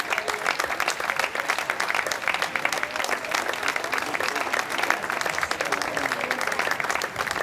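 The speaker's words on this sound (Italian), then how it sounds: "Basterebbe l'applauso di sottofondo che continui" An audience claps steadily at an outdoor evening event in a town square, a dense, even wash of applause that lasts throughout.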